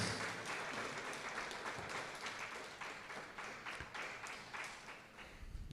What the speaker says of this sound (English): Can we have a round of applause for all of the Year 4 class prize winners?